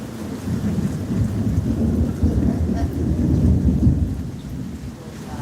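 A long, low rumble of thunder rolls continuously, swelling and fading gradually with a faint hiss of rain in the background.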